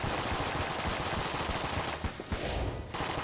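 Rapid, dense gunfire rattles nonstop in the video game Enter the Gungeon, a fast stream of overlapping shots filling the clip loudly with no talking.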